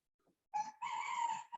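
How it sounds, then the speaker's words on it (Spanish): A rooster crows once at dawn, a loud, strained call rising after a faint opening cluck, heard close and alone with no talk over it. "En esta mañana el gallo nos está ayudando a predicar, hermanos."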